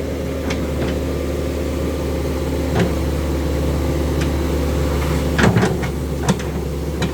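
Excavator engine running steadily at a low rumble while it digs, with occasional clanks and knocks of the bucket and teeth over the drone.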